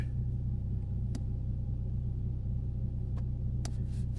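Car engine running with an Injen X-Pedal Pro throttle controller fitted, a steady low rumbling drone with a few brief sharp clicks, close and continuous without an obvious rev climb.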